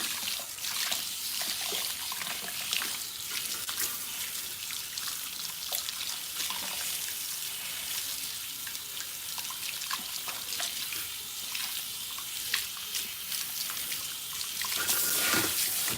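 Water runs steadily from a tap as it rinses spritz gel out of the front of someone's hair, a constant close hiss that swells slightly near the end.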